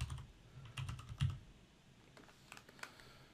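Keys clack on a computer keyboard as short words are typed, with quick bursts of close, light taps, a brief pause, then a few more scattered keystrokes.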